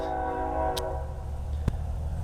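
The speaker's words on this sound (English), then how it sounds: "would be a train coming through now" A train near a spring garden sounds its horn in a long sustained tone under a steady distant rumble, followed by a sharp clank, heard faintly from a distance.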